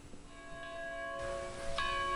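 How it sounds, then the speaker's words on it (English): A monastery church bell at Assumption Abbey rings before dawn, its steady ringing tones sustained and fairly faint against a quiet background, with a fresh strike near the end. "The bell rings at 3:15 before dawn"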